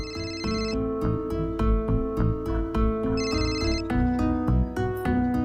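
A phone ringtone plays a repeating melodic tune for an incoming call from an unknown number, loud and steady with no voices over it.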